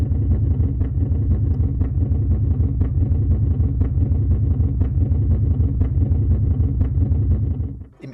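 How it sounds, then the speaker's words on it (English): Sonified oscillations of a red giant star heard as a deep, steady low rumble with faint regular pulses throughout, loud and continuous, cutting off abruptly at the end. "here I've got the sound of a star in its terminal phase. It's a red giant."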